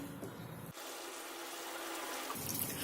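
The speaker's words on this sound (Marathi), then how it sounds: "त्याच्यात एक ग्लासभर पाणी ओतणार आहे" Water from a glass poured into a cooking pot, a steady close splashing fill lasting a couple of seconds before tailing off.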